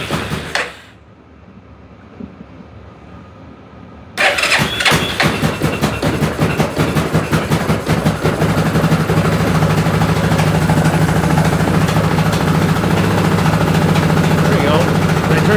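Yamaha Grizzly 660 ATV engine cranks briefly, then catches and runs on full choke with a loud, steady, rattling idle close by.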